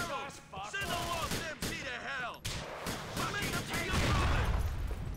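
Gunfire in GTA: Episodes From Liberty City, with a voice talking over the opening seconds before loud, rough bursts of shots and booming impacts take over, peaking near the end.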